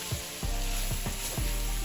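Flour and sausage with its pan juices sizzling hard for gravy, a dense continuous crackle broken by several quick scraping strokes of stirring.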